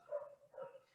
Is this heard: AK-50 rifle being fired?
no